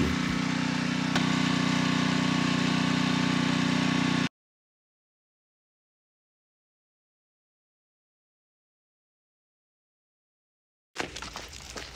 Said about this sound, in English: I use a 3400 PSI pressure washer with a turbo tip